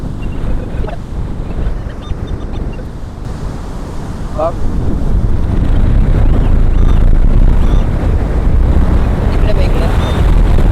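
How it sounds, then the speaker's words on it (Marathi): Strong wind buffets the microphone on a beach at Achara under a dark evening sky, with surf roaring continuously throughout and building louder in the second half while a voice calls out briefly. "वारा खूप आहे"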